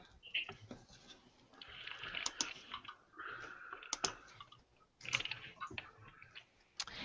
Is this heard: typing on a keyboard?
yes